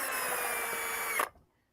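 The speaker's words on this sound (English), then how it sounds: "Yes, I'm drilling entry holes." Power drill boring entry holes, a loud continuous high whine that cuts off abruptly, leaving near silence.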